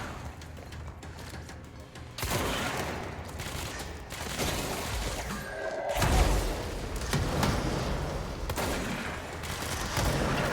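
Rapid bursts of gunfire in the game Control crackle in dense volleys, with a short pause before a heavier, sustained stretch of shots continuing to the end.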